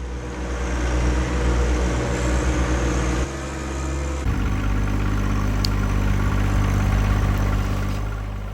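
A John Deere 1025R compact tractor fitted with a root grapple runs steadily during land clearing, a loud, close, low engine drone that shifts in pitch and load partway through, with no talking.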